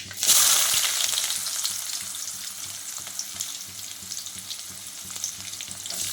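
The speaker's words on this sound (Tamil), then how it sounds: "இப்போ வெங்காயத்தை போட்டுக்கலாம்" Onions fry in hot oil for a fish curry, a loud, continuous close sizzle with faint stirring scrapes and no voices.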